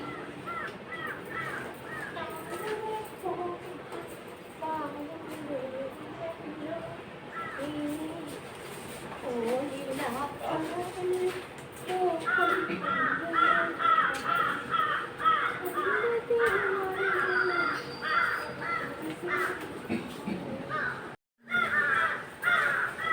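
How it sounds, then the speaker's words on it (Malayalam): Crows caw noisily and persistently outdoors near a house, with many overlapping harsh calls that build louder and denser over time, under some distant voices and household sounds. "കാക്കച്ചിമാർ കിടന്ന് ബഹളം വെക്കുന്ന കേട്ടോ."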